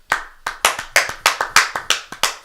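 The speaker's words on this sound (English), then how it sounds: "Do a regular clap like that." Bare hands clap about ten times in a steady, sharp rhythm, close and loud, with no voices.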